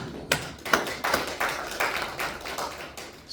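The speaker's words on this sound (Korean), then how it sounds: "박수를 보내드립니다." A church congregation applauds during a sermon, a short burst of scattered, fairly soft hand claps with quick uneven rhythm, heard from the room with no talking over it.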